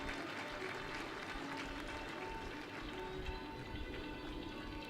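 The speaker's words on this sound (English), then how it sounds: "Thank you all for keeping your claps coming." Applause from the audience at a university convocation ceremony fills the hall as a steady, even wash of many hands clapping at a distance, with no voices standing out.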